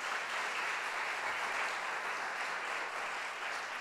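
Worshippers in a church service applaud together, a continuous even wash of many hands clapping at moderate volume, steady from start to finish with no speech over it.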